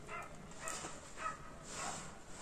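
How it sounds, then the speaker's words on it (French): A dog barks repeatedly outside, distant and muffled, with several short bursts spread over a steady indoor background and no talking. "Je sais pas si vous entendez le chien dehors qui n'arrête pas d'aboyer."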